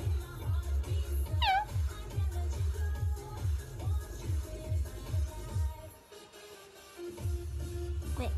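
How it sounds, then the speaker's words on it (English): Several high, thin kitten meows ring out close by over a steady rhythmic low thumping, with a brief quiet gap before the thumping resumes. "Look at this baby kitty."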